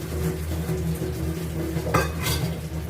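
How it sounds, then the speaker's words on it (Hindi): Dishes and utensils being washed by hand in a home kitchen give off a steady, close clatter of clinks, scrapes and splashes, with a sharper knock near the end and no talking. "किचन में बर्तन पड़े थे, मैं बर्तन मांज रही थी।"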